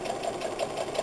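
A sewing machine stitches a keychain, its rapid even mechanical clatter repeating in a steady rhythm, close and clear with no talking.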